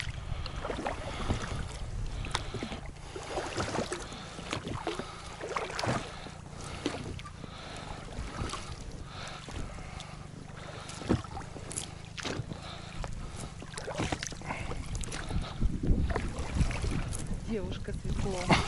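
Oars work a small rowboat while fishing nets are being checked, with splashing strokes and knocks against the hull over wind noise, and people talking now and then.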